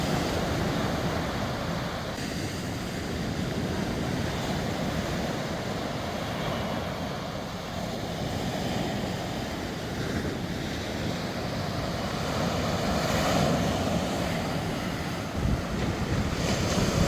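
Black Sea surf breaks continuously on the shore at Anaklia, Georgia, a broad steady roar of rough waves with wind buffeting the microphone throughout, close and loud with no voices.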